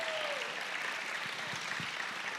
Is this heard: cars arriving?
no